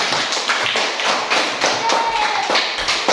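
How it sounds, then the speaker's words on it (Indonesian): A class of students claps together for a group of classmates after their presentation, a dense steady patter of many hands filling the room close by. "sekarang kita berikan tepuk tangan dulu untuk kelompok 1"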